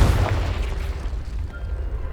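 A Confringo blasting spell in Hogwarts Legacy bursts with a loud, deep boom that rumbles and fades over about two seconds.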